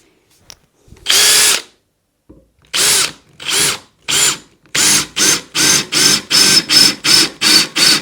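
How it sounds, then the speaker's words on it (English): A power drill bores oversized holes into stone in loud repeated bursts, first spaced apart and then in a quick regular run of short pulses. "I'll drill oversized holes."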